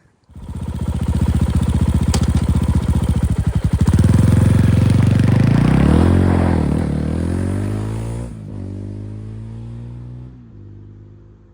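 A Fantic Caballero 500 scrambler motorcycle revs up from idle into a loud, sustained, throaty exhaust roar with rising pitch and rumbling harmonics, then drops back to a steady idle, close by and without talk.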